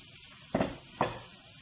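Chicken wings frying in oil, a constant close sizzle and hiss with two brief louder bursts of splattering, no one talking.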